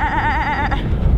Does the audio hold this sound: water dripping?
no